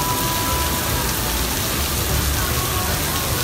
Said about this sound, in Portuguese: E a chuva tá caindo forte aqui